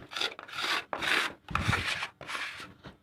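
Rough scraping strokes of a metal blade across not-yet-dry joint compound on gypsum board, five or six rasping passes in steady rhythm, close up with no voices.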